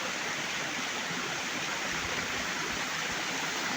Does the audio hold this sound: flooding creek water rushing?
yes